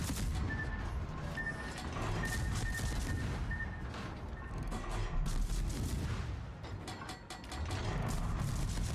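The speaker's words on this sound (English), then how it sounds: "there's the exploding I was waiting for" Dense, continuous rumble of naval combat in World of Warships, with overlapping ship explosions and clattering, ratchet-like mechanical bursts that swell and fade, loud and busy throughout.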